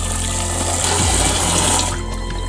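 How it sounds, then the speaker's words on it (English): Rice being washed in a bowl of water, a loud continuous rush and slosh of water close by, easing slightly toward the end. "and then wash the rice with another bowl of water"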